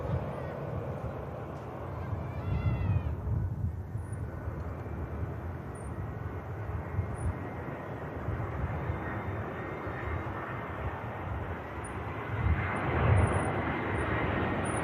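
An airliner inbound from Frankfurt makes its final approach to land at Manchester Airport, a broad, distant engine roar that holds steady for the whole stretch and swells slightly toward the end, with faint bird calls early on.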